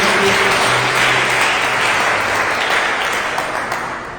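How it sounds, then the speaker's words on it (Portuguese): A church congregation at an evening missions service applauds loudly and continuously, a dense, even wash of clapping that tapers slightly at the end. "Vamos aplaudir o Senhor essa noite."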